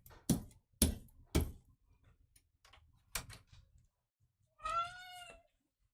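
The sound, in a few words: cat meowing loudly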